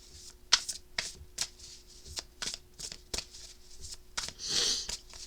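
Tarot card deck shuffled by hand in a quiet room, a series of soft crisp riffles and taps repeating roughly every half second, ending in a longer shuffling flutter.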